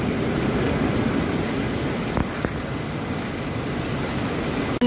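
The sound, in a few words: rain falling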